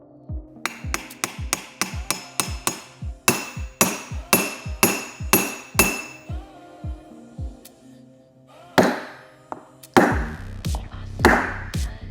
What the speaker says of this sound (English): I can give it a couple of whacks with a hammer